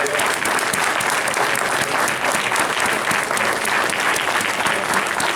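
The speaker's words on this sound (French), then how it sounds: "on va applaudir pour aller." A church audience at a Haitian pastors' league gathering in Central Florida applauds steadily and loudly throughout, a dense continuous clapping with no break.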